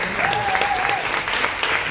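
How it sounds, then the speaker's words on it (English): A round of audience applause for the panelists at an education town hall, moderately quiet and steady throughout, with a voice briefly sounding over the clapping. "Let's give one more round of applause for our panelists"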